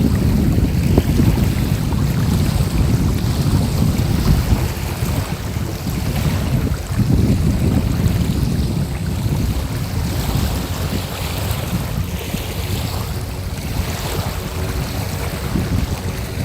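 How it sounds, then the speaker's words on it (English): Strong, steady wind roars and buffets the microphone over a winter lake, with a dense low rumble and gusty swells throughout and no voices. "This wind is nutty right now."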